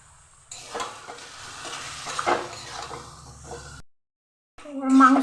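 Chicken pieces for biryani fry in oil with ghee in a pot, heard as sizzling and spatula scraping against the metal, then a brief pause before louder clattering stirring resumes.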